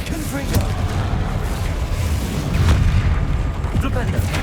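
Spell blasts and booming impacts erupt during a Hogwarts Legacy duel, including an explosive Confringo hit, with loud thuds and crackling bursts over a dense battle din while a voice speaks over it.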